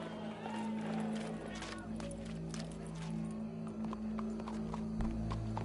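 Faint, steady clip-clop of horse hooves in Red Dead Redemption II trots along under a low background hum, with a few brief voices mixed in.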